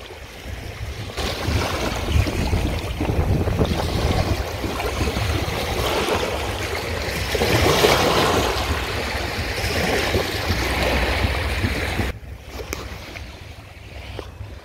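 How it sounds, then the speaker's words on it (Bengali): Wind-driven waves on the Jamuna River lap and wash continuously close by under a broad gusty rush, ending with a softer, calmer stretch; nobody speaks. "আপনাদের একটু ঢেউয়ের শব্দ শোনাই, চলেন"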